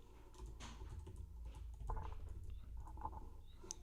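Fast, light typing on a computer keyboard during a live cycling race watchalong, a soft patter of key clicks running continuously for a few seconds with no talking.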